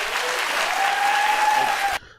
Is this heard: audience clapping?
yes